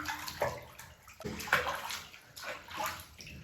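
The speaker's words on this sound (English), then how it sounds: "I'm gonna wash around there, get rid of all the vomit from the day." A four-month-old baby is washed in a bath, with close water sloshing and splashing in uneven waves as it is scooped and poured.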